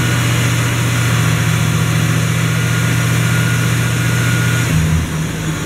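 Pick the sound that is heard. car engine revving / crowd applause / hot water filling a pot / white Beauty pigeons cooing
car engine revving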